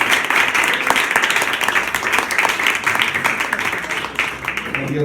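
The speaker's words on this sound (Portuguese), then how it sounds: "Aplaudindo ao Senhor, para a glória e para a honra dele" A church congregation applauds the Lord during a worship celebration, a dense, steady wash of many hands clapping close and loud for about five seconds, with some voices mixed in.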